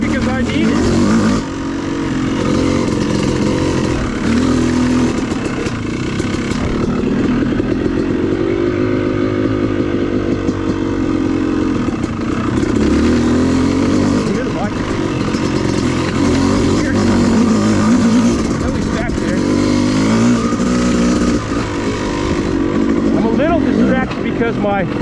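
An off-road motorcycle engine with its idle set high runs near and loud on a forest trail, a steady buzzing drone with small rises and dips throughout, and a rider talking over it.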